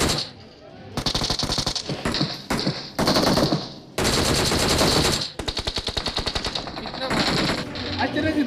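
M4 rifle fired in long spray bursts in a video game, with rapid rattling automatic fire in several loud, closely spaced volleys separated by short pauses.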